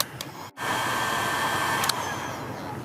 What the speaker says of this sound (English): Heat shrink the butt connector.